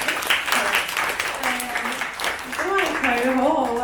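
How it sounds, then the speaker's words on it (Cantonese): An audience at a church testimony gathering claps in a brief burst of applause, and a voice speaks over the clapping as it fades toward the end. "可唔可以俾啲掌聲？"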